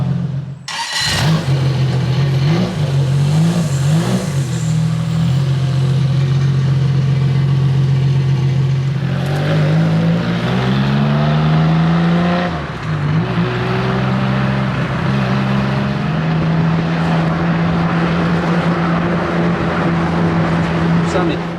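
The Maserati V6 of a Ligier JS2 race car rumbles loudly close by, idling and then revving up and down in several rising and falling swells, with people talking over it.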